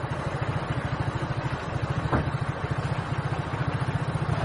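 A motorcycle engine runs on the move with a steady, rapid pulsing thrum, fairly quiet and continuous, and no one speaking.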